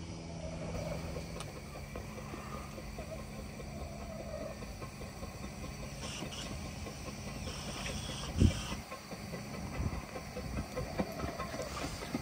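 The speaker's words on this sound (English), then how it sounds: "we'll just wait and watch this train go out." A small steam train on the UK's smallest line departs with a steady hiss and low rumble, moderately distant, with a brief louder burst partway through as it pulls away.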